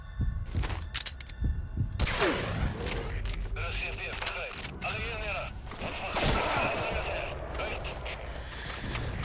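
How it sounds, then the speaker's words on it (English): Enemy sniper gunfire in the video game Metal Gear Solid V: The Phantom Pain, several sharp cracking shots amid a busy game soundscape of rumbling effects and tones, with voices speaking over it. "Boss, get down. The enemy sniper."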